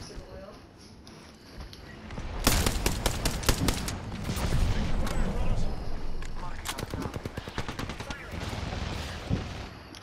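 Fireworks exploding in loud rapid crackling volleys, a dense burst mid-clip and another cluster of sharp pops later, over steady background noise while people talk throughout.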